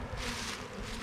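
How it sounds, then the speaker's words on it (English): Bees buzz around a stacked beehive as a steady, dense hum that holds close and fairly loud through the whole short stretch, with no talk. "half a pound of bees over here"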